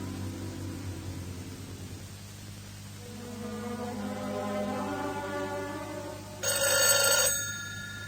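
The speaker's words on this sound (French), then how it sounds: "Oh, le téléphone?" An old-style telephone bell rings in a single brief, bright burst near the end, after a quiet stretch of low hum and faint tones.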